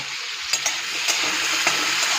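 Frying in an oil-filled kadai in a home kitchen, ahead of a cauliflower curry, gives a steady bright sizzle with a few sharp crackles and pops, close and alone with no talk.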